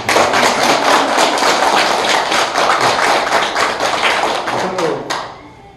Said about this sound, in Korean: 굉장히 박수 한번 부탁드립니다